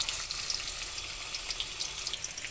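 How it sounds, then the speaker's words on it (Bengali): Chopped ginger and garlic frying in hot cooking oil, a steady close sizzle with bright crackling pops scattered throughout, heard alone. "এখন আমি এটা ভেজে নেব একটু ব্রাউন কালার করে নেব"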